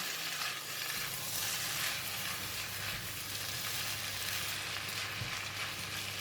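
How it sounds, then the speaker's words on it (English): Tofu mee goreng noodles with spring onions and parsley are stir-fried in a hot pan, a constant close sizzle broken by occasional stirring scrapes, with no voices. "Once we put in all these ingredients, just give it a couple of stir"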